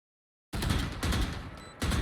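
Valorant gunfire fired through a wall with a Vandal rifle: dense bursts of rapid shots starting after half a second of silence, loud and close, with a brief lull before another burst.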